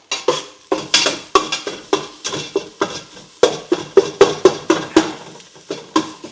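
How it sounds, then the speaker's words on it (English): A utensil scrapes and knocks against a pot while Thai green curry is stirred, producing a steady run of about twenty close, clattering strokes in a quick, even rhythm. "So I gotta stir it up."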